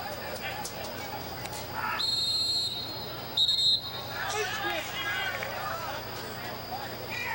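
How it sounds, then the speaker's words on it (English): Referee's whistle at a men's college soccer match, two short sharp blasts over distant crowd murmur and players' shouts on the field. "Whistle blows."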